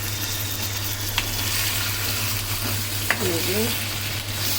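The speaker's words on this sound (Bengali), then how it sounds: "মাংসর সাথে এখন পেঁয়াজটার সাথে মাংসগুলো ভালো মতো ভেজে নিতে হবে" Meat and onions frying together in a pot for Afghan Kabuli pulao: a steady, close sizzle throughout, broken by a couple of brief clicks over a low hum, with no talking.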